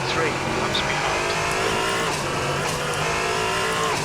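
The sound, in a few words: race car tire lockup in racing sim video game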